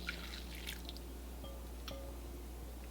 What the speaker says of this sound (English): I love these double boiler bowls because they have these little spouts right here which make pouring so easy.